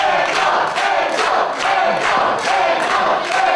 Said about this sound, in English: this crowd here in Lucan getting behind M-Dogg